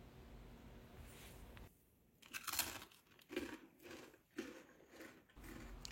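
Crispy, crunchy food is bitten several times, giving sharp crackling bursts separated by brief pauses, close and fairly quiet with no talking.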